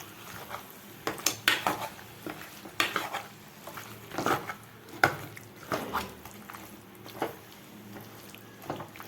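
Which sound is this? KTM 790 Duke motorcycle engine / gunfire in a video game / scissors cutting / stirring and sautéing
stirring and sautéing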